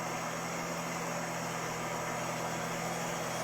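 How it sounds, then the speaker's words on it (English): A steady aircraft engine idles without change, a constant low drone with broadband hiss and no variation in loudness for the whole stretch. "All right, so we can hear it idling."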